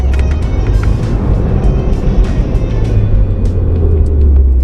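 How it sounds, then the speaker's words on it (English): A Subaru WRX with a CVT slows by engine braking on paddle shifters from about 63 mph, its steady low engine drone and road rumble holding loud and constant with light wind noise over it. "So I'm about to use the paddle shifters to drop the engine ratio so that I can use engine braking."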